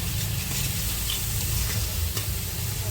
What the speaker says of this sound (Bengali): ভালো করে মশলাটাকে আমি কষিয়ে নেবো এখন